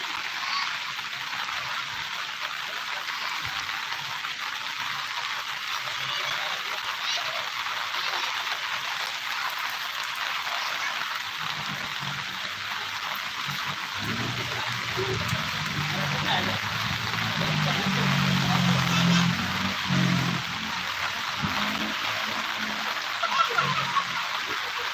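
Steady rain falls beside a riverside market, a continuous broadband hiss that swells slightly toward the end, with faint voices in the background.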